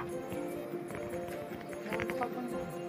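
Cartoon horse hooves gallop in a quick, repeated clip-clop rhythm under steady background music, with talking at moderate loudness.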